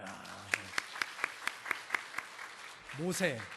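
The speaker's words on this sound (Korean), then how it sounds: "자, 우리 박수 한번." Church congregation clapping during a Korean Sunday sermon: about ten evenly spaced, fairly faint claps, then a voice speaks briefly at the end.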